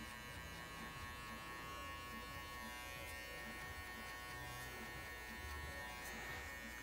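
Electric hair clipper at its closed setting cutting the base of a fade haircut, a faint, steady high buzz with a tonal hum running unbroken for seven seconds, close and alone.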